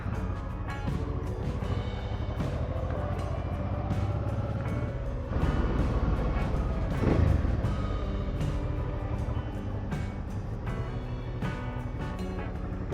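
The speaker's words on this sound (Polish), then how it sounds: "Silnik dopiero zaczął się rozgrzewać." A motorcycle engine runs steadily as it warms up on a December day in Corsica, a continuous low drone with some wind buffeting, swelling slightly around the middle and holding at a moderate level throughout.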